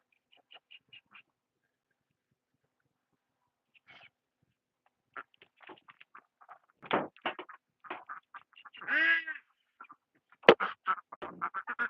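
Ducks on a duck farm quack in short, irregular bursts close by as they climb a ladder into their house, with a few louder nasal calls and shuffling in between.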